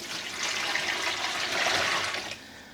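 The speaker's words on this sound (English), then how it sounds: "And I'm adding in a couple of liters of water." Water gushes steadily into a container for a couple of seconds while preparing a yarn dye bath, a close, hissing splash that cuts off abruptly.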